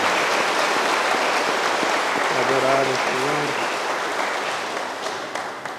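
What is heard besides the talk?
congregation applause in church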